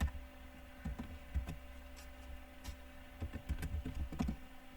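Someone typing the word soccer on a computer keyboard, a quiet close run of irregular key clicks and taps in small bursts over a low background hum.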